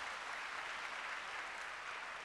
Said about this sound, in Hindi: जोरदार तालियां फ्रेंड्स, जोरदार तालियां